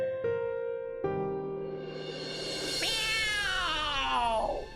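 A cat gives a long, drawn-out meow that rises and wavers into a yowling caterwaul, close and clear over quiet background tones, with no talk.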